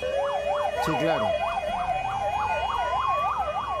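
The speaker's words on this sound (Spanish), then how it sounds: "Mirá la ambulancia intentando pasar, ¿no?" An ambulance siren wailing in a regular rising and falling pattern as it tries to get through a street traffic jam, loud and close over traffic noise, with a brief voice speaking.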